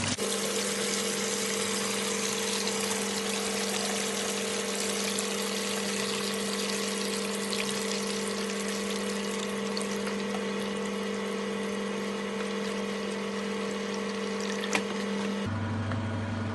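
A snow shake frozen beverage machine runs its cleaning cycle as rinse water drains off, giving a steady mechanical hum with liquid flow that cuts out near the end.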